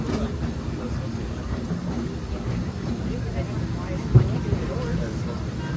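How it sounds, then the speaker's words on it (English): Disneyland Railroad train rolling along the rails, giving a steady low rumble and faint clatter with one brief knock, while a voice speaks over the ride. "Please remain seated until the train makes a full and complete stop"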